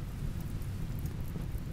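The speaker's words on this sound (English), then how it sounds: "I'm super happy that we have the rain" Steady rain with a deep rumble of thunder in the colony-building video game RimWorld, a dense continuous wash of rainfall and low rolling noise throughout.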